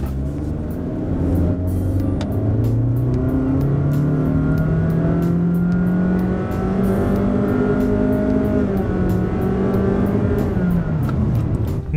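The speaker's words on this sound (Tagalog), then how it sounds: "So ilalagay ko siya ng S mode, naka-stop tayo, no? Tapos preno tayo, i-launch natin, tingnan natin kung gaano kabilis." A 2023 Honda BR-V seven-seater launches from a standstill in S mode, its engine revving hard with rising pitch through the gears, a loud, close, continuous roar from inside the cabin with no talk.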